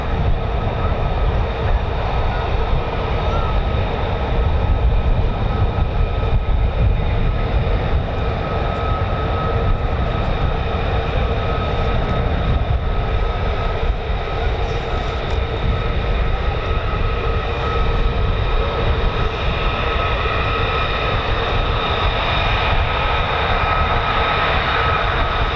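An F-15 or F-35 fighter jet approaches RAF Lakenheath, with a loud, continuous engine roar and rumble that holds steady for the whole stretch and carries no talk.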